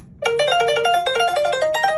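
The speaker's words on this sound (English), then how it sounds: "This muted piano, we muted the strings with this blanket." A blanket-muted piano sample sped up 23 steps plays alone as a bright, plinky run of quick tonal notes, steady and fairly loud, starting after a short quiet lead-in.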